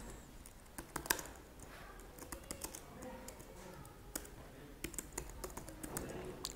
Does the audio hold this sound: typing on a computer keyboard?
yes